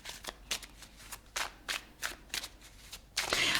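A deck of tarot cards is shuffled by hand to draw clarifier cards: a series of soft, crisp riffles and flicks in uneven bursts, close by and fairly quiet, ending in a longer, fuller shuffle.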